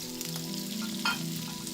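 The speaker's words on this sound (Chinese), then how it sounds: "冷鍋下油燒熱，放入羅氏蝦油煎，至焦黃撈出。" Giant freshwater prawns pan-frying in hot oil make a short, close, steady sizzle with a brief louder crackle partway through and no voices.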